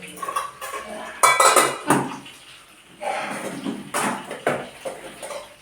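Curry being transferred to another vessel in a home kitchen, with metal pots, ladles and dishes clattering and scraping in irregular loud bursts, close by, with a little background voice.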